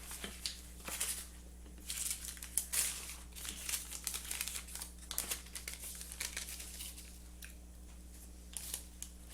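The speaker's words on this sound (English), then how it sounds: "Got a reusable Ziploc bag." A reusable Ziploc plastic bag is handled close by, giving irregular crinkling and rustling bursts over a low steady hum.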